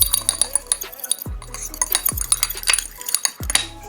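A utensil mixes mayonnaise with rice vinegar and sugar in a bowl, giving quick, close, rhythmic clinks and scrapes against the bowl with a few sharper knocks.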